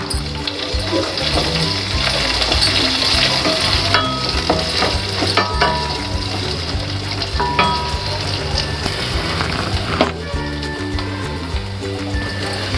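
Onions and green chillies sizzle steadily as they fry in a pan for a beans and potato masala fry, with occasional scraping stirs and clinks of a spatula, close and continuous, no one talking.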